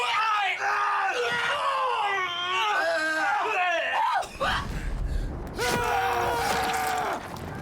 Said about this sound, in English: all the screams you hear in the game for that charging moment were here